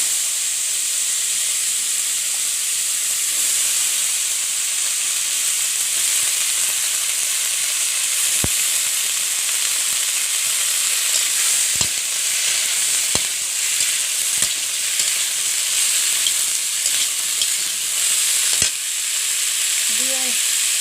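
Oil in a kadai hisses and sizzles steadily and loudly throughout, a constant close frying sound broken by a few sharp clicks and pops, with a faint voice near the end.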